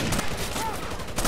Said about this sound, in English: Nothing much, just gunfire.